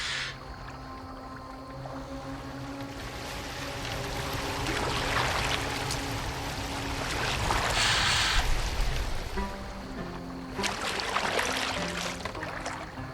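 A boat moving across water in Assassin's Creed Valhalla, with a continuous washing and splashing of water that swells and fades, low rumbling beneath and brief bright splashes, steady and fairly close.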